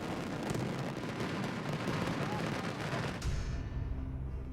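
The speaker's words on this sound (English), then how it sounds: "daytime pyro is an assault on the ears" Daytime fireworks at a large professional pyrotechnics show, a dense barrage of loud overlapping bangs and booming bursts that rumble continuously, then drop off into a lower, thinner rumble near the end.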